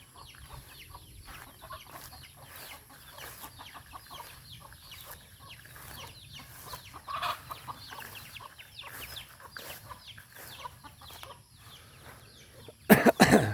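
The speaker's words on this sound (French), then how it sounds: "J'ai pris une petite marche pour envoyer les poules." Hens cluck softly in a garden, scattered quiet clucks and rustling at a moderate distance over low background noise, ending in a sudden loud burst of handling noise close by.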